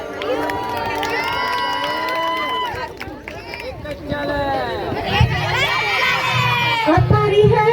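A lively crowd at a sangeet ceremony cheers and shouts, children's voices rising high and excited, loud and continuous throughout.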